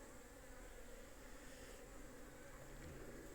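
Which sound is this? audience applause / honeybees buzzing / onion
honeybees buzzing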